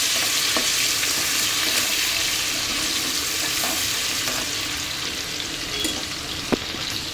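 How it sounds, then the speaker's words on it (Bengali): Potatoes frying in a pan give a loud, dense, continuous sizzle that holds steady throughout, with a few faint clicks and one brief knock near the end. "আলু ভাজা বসিয়ে দিয়েছি এখানে।"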